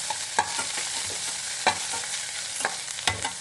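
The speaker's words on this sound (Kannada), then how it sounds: "ಉಳ್ಳಾಗಡ್ಡಿ ಫ್ರೈ ಆಗಬೇಕು" Onions fry in a pan under a steady hiss, with a spoon clacking and scraping against the metal in irregular strokes; quiet overall and free of speech.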